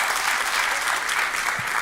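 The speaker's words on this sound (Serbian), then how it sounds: "Možete aplauz slobodno," A comedy show audience claps in a steady, dense wash of applause that fills the room evenly from start to finish, with no talking over it.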